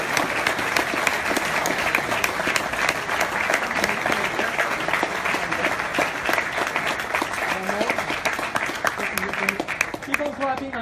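Sustained applause from a large audience, steady dense clapping throughout with occasional cheers and a voice rising near the end.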